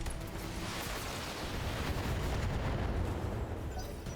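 A mech firing all its weapons at once in Battletech unleashes a dense, roaring barrage of explosions and missile blasts that rumbles continuously for several seconds, loud and close, with no voice over it.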